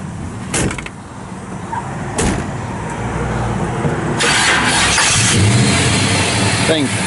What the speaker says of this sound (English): Thing fires right up.